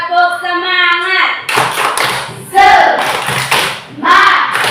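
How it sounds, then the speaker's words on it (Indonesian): A classroom of pupils performs a rhythmic spirit clap led by their teacher. Young voices chant first, then a sequence of sharp patterned hand claps and taps follows, mixed with more chanting. "Tepuk semangat."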